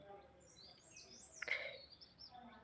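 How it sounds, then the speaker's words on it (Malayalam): A single faint bird chirp rises briefly over quiet outdoor ambience, distant and thin, from birds high in the treetops. "കേട്ടോ കിളികളുടെ ശബ്ദം"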